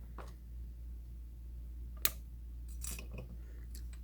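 Wire cutters snip craft wire for a beginner wire wrap pendant, a single sharp, close click standing alone against a quiet background, followed by faint handling noises.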